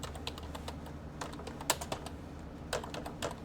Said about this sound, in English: You go into Google, type in bullish,